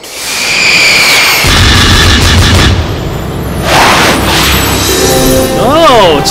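Cartoon shells fire and explode in a loud animated battle, with booming blasts and crashing, rumbling debris across the whole stretch, followed by whooshing, wavering effects near the end.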